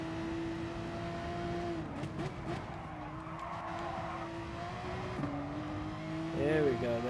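A race car engine drones steadily through a hot lap of Mount Panorama in a racing video game, its pitch dropping at gear changes under braking before climbing again, with a brief tire squeal near the end.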